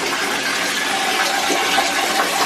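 Water pours steadily from a shower while a baby is bathed in a home without a faucet or bathtub, a continuous close, broadband rush with no talk.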